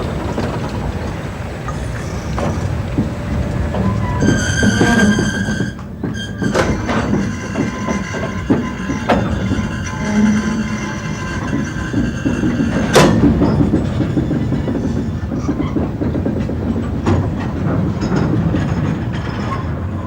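Colliery coal wagons roll back down a gradient on the Westoe Colliery Railway in 1988, giving a loud, continuous rumble with clanks and squealing metal, plus sharp rhythmic wheel clicks on rail joints.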